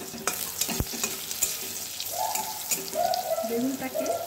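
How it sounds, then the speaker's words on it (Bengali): Eggplant pieces fry in a pan with a little salt and turmeric, a soft sizzle under sharp clinks and scrapes of stirring, close and moderately loud. "এখন প্রথমে আমি বেগুনটাকে একটু ভেজে নিচ্ছি। এতে আমি অল্প একটু লবণ দিয়ে দিচ্ছি, তার সাথে দিয়ে দিচ্ছি অল্প একটু হলুদ।"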